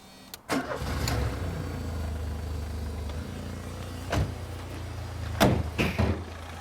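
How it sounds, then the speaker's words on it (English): A modified used car at a car show starts up and runs with a steady low idle hum, while sharp clunks and thuds that sound like doors or panels break in over the engine note, close by. "Shall we have a little listen to the engine?"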